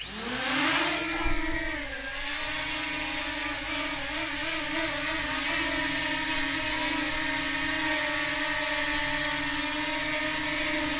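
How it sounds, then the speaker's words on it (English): A DJI Mini SE drone hovering after takeoff gives a steady, close propeller whine with a faint wobble in pitch. The buzz stays even and continuous throughout, with no one talking. "So this is the Mini SE taken off."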